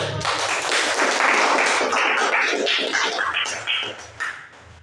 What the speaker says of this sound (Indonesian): Kita kasih tepuk tangan dulu yang semangat